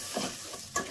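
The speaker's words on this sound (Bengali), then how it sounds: "পেঁয়াজটা তো লাল লাল করে ভাজা শেষ" Onions frying in a pan and being stirred, a steady sizzle with brief scraping stirs, close and alone.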